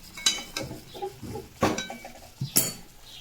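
A cooking pot of fish with mustard is covered with a lid: several sharp metallic clanks and knocks of the lid against the pot, close up, with quieter handling sounds between them.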